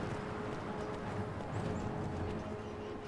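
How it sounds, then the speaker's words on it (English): A horse running in Skyrim, its rapid hoofbeats blurred into a continuous rumble beneath a dense, loud wash of game ambience and music. "Why is the horse running out into danger?"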